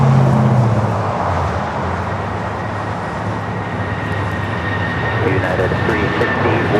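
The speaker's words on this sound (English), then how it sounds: "United 757 now rolling." United Boeing 757 rolling for takeoff at LAX, a broad, steady roar of jet engines building over several seconds, heard from a distance with a constant rushing wash.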